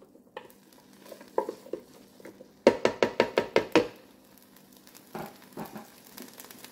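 A spoon stirs salt and garlic into chicken and rice in a Ninja Speedi cooker, making a quick run of about seven rhythmic scraping strokes followed by a few scattered stirs amid soft sizzling.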